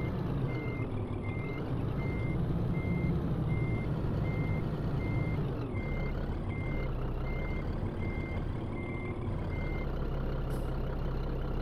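A truck in Scania Truck Driving Simulator reverses, its backup alarm beeping in an even, regular rhythm over a steady low engine drone, with no talking.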